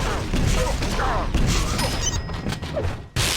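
Rocket launcher blasts in the arena shooter Quake Live give loud, repeated thuds and crashes in quick succession under fast-paced commentary, with mechanical weapon sounds mixed in.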